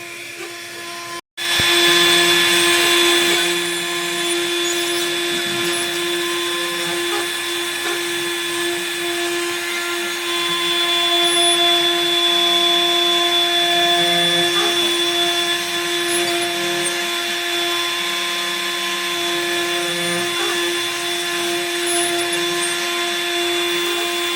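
A CNC router carving a wooden sign whines steadily, a loud continuous high-pitched drone with a grinding undertone that hardly changes.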